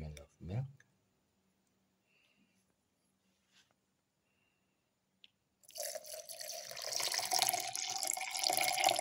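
Milk pours into a blender jar for a plum banana smoothie, a steady liquid splashing and gurgling that begins partway through after a quiet pause with faint clicks and continues loudly to the end.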